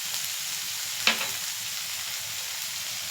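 Ingredients for egg fried rice frying in a pan, a steady soft sizzle throughout with a single brief clink of a utensil near the start.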